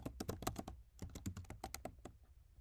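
Rapid typing on a computer keyboard while entering text for a React coding demo, with a quick run of close, crisp key clicks, a brief pause, then another burst of keystrokes.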